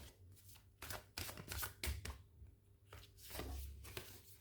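Oracle cards being shuffled by hand, soft quick riffling and slapping bursts at close range, faint and irregular, with no talk.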